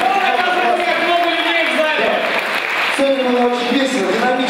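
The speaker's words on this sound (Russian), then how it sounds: "Давайте поаплодируем болельщикам, что вообще пришли." Audience at an open KVN league comedy event in Novosibirsk clapping steadily and densely throughout, a sustained wash of applause with a voice speaking over it.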